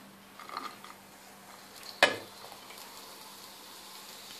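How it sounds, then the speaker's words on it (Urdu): Chicken fries in oil in a pan. A soft, steady sizzle carries a few light stirring scrapes and one sharp clink of a utensil against the pan. "سب سے پہلے ہم چکن فرائی کریں گے."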